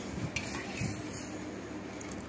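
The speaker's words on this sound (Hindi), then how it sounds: "तड़का मार देंगे।" Tadka tempering for a village-style mixed dal, with a steady sizzle of hot oil, a couple of soft stirring and metal pot clinks, close and moderately quiet, and no talk.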